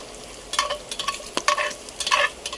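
Bacon crisping in a hot pan, a soft steady sizzle under brief scraping and stirring clatters spread through the moment, close and moderately loud, no talk.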